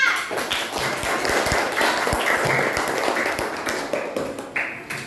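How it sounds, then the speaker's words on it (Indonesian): A primary school class applauds a student group after their presentation, brisk, close clapping with sharp individual taps that spreads through the room and then tapers off near the end. "Silakan tepuk tangan untuk kelompok 4."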